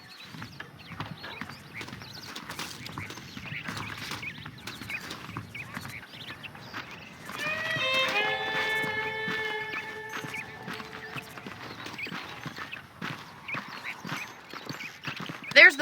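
Horse hooves clip-clop steadily in the Red Dead Redemption video game, a soft rhythmic patter running throughout, with a horse's neigh rising in the middle and game voices talking over it.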